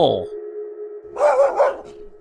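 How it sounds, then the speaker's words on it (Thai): A dog barks at midnight in the horror game Urayama, giving a couple of short barks near the end over a steady electronic hum, after a brief burst of sound at the start. "เสียงหมาเห่าครับ"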